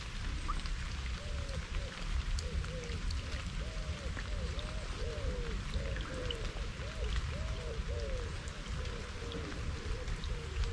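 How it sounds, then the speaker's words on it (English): Steady rain falls outdoors beside a lake, a dense continuous patter of drops with a constant wash of noise and no speech, holding an even level throughout. "now we've got rain set in for the next couple of hours"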